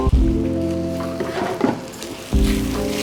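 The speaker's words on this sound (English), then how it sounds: "Give it a good stir." Butternut squash risotto bubbles and sizzles in a pan as a spoon stirs through it, with a loud close frying hiss that swells again near the end.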